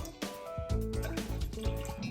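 Water poured into a container of noodles, a close splashing, gurgling stream that starts abruptly and fills steadily with shifting pitch as the level rises.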